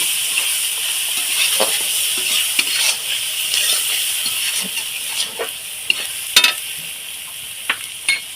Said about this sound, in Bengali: এখানে আমি হলুদ গুঁড়ো দেব দু চামচ দিয়ে মশলাটাকে আবার একটু ভালো করে কষিয়ে নেব